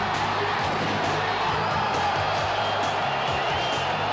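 Crowd noise at a lowrider car show, a dense, continuous murmur of cheering voices heard from a distance.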